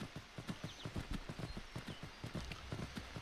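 In Skyrim, a horse carrying pack mule gear clip-clops steadily along at a quick walking rhythm, faint and fairly distant, with no talking over it.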